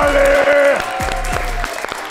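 Applause rises from a concert crowd along with stage sound, short bursts of clapping mixed with loud music and a voice.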